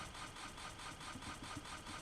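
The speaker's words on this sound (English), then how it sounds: "It's trying to turn on, it's just not revving." A car engine in the BeamNG.drive video game cranks without catching, a faint, low rhythmic churning pulse that repeats steadily for about two seconds without revving up.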